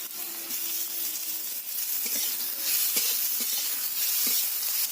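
Chopped tomatoes added to onions frying in a pan give a steady, close, moderately loud sizzle and hiss, with a few soft stirring taps near the end and no voices.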